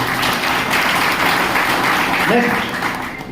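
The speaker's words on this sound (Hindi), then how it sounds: "एक जोरदार तालियां होनी चाहिए" Broad, steady clapping from a crowd at a business seminar fills the whole stretch, loud and sustained, with a faint voice briefly surfacing near the end.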